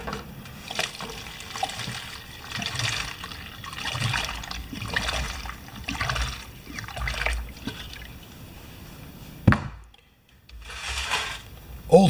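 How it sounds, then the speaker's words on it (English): Water running and splashing inside a container as it is rinsed out before use with fuel for a 14.5 HP Husqvarna snowblower, in rhythmic sloshing bursts, then a brief hush and renewed splashing. "I'm just going to rinse this."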